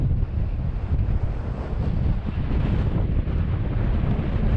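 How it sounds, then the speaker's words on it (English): Strong wind roars steadily across a Lake District mountainside near Buckbarrow, buffeting the microphone with a constant, loud, rumbling gust that never lets up, with no voices heard. "I'll be glad to get out this wind"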